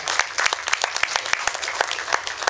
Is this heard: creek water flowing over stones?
no